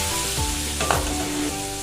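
Continuous bubbling sizzle of tamarind sauce boiling in a pan on the heat, with a brief stir partway through, close by and fairly loud, no voices.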